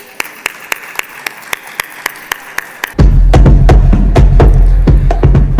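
An audience at an awards gala in a hotel ballroom applauding an honoree, starting with a few sharp, evenly spaced single claps, then erupting into loud, full, sustained applause from a large crowd.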